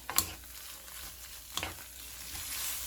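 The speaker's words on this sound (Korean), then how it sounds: "불은 중불보다 살짝 약하게 10분 동안 자글자글 빼주셔요" Bracken fern and clams stir-frying in a pan over slightly lower than medium heat, a steady soft sizzle with a few sharper crackles and stirring scrapes near the start and middle, no voices.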